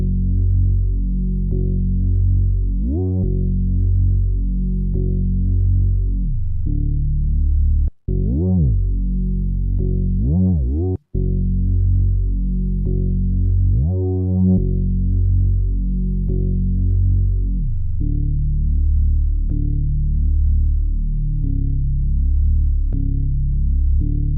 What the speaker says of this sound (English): that's how you can make a quick bass pattern given the chords that we made